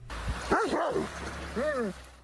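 A small 17-pound dog gives a few short yipping barks and whines, two quick calls followed by a longer one, fairly close over low background noise.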